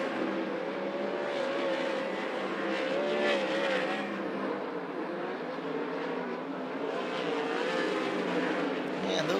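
Open-wheel race cars lap the oval at Skagit Speedway in a first practice session, a continuous, fairly distant engine drone rising and falling as the cars circle.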